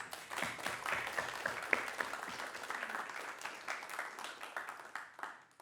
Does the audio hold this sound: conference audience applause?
yes